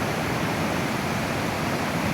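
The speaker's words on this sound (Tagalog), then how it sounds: "Grabe yung tubig, oh, lakas." Strong rushing water at a childhood playground spot, a loud, dense, unbroken roar that fills the whole clip.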